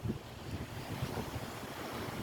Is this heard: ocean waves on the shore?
yes